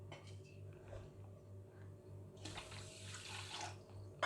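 Water is poured over sugar for lemon syrup in a home kitchen, a soft trickling stream that swells louder partway through, close by, over a steady low hum, with no voices.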